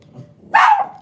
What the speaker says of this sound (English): when my husband comes in and out of the house, the dogs go off like a fire alarm.